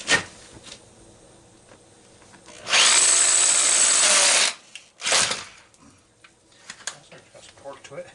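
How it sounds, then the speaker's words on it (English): A power drill whines at high speed while boring a 3/4-inch hole into a barn for about two seconds, followed by a shorter burst; knocks and scrapes fill the gaps. "we can drill a 3/4 inch hole"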